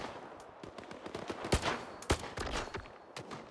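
Gunfire in the S.T.A.L.K.E.R. 2: Heart of Chornobyl video game, several sharp shots and short bursts over a low background rumble, with two louder blasts standing out.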